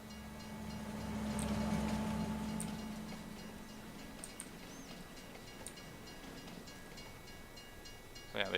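A Canadian train in the farming game Farming Simulator 22 rumbles by at a moderate distance, a steady rolling drone that swells and then fades into a quieter background with light ticking clicks.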